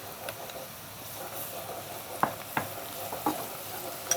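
Two tablespoons of garlic paste frying in a hot pan, a soft continuous sizzle with a few sharp stirring clicks and scrapes, fairly quiet and close.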